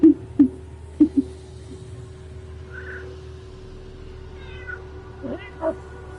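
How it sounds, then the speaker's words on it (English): A pet cat named Aslan meows a few times nearby, short tonal cries scattered over a low steady household hum, with a faint voice in the background. "You stupid cat."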